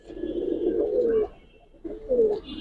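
Pigeons in a loft of Giribaz racing and coloured breeds coo in two soft, throaty rolling phrases separated by a short pause, close by and clear against a quiet background.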